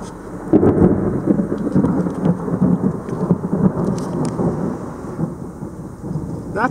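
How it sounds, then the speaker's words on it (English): Thunder from a line of storms near a tornadic supercell rolls and rumbles continuously over steady rain, loud and fairly close, with no voices. "That thunder actually came from over there, from that line of storms."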